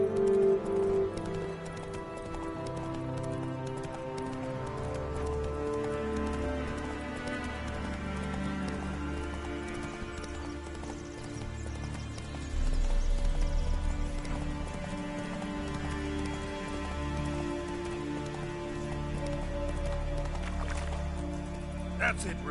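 Hooves of Roach, Geralt's horse in The Witcher 3, clop in a steady rhythm under rain and a game music score, with a spoken voice mixed in.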